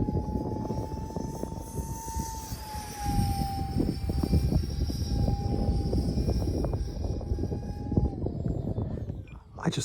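A model Avro Arrow CF-105 delta-wing aircraft flying, a steady high whine that dips slightly in pitch as it passes, with wind rush and rustling throughout.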